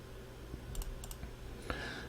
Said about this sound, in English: When we click OK